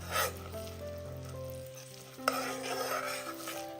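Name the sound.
stirring unniyappam frying in oil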